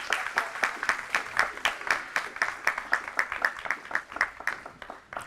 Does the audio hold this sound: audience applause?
yes